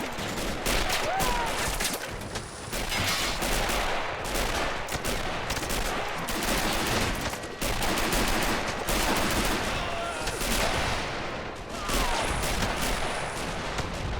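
Dense, continuous gunfire in a video game amphibious beach assault, with rapid bursts and overlapping shots, loud and chaotic throughout, with a few faint voices mixed underneath.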